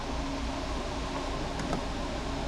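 Electric fan running in a room, a steady close whooshing hum of constant airflow with no pauses or voices.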